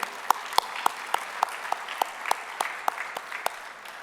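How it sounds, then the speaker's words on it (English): Sparse applause at a professional chapter event, a handful of distinct, evenly spaced claps ringing out over a quiet room, fairly close and modest in volume. "I would like to have a big round of applause once again for him"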